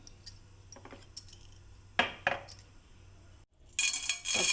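A spoon clinks against a pan and utensils rattle in bursts while oil goes in for a tomato chutney, with brief metallic taps, a short pause and a louder clatter at the end, with no talk.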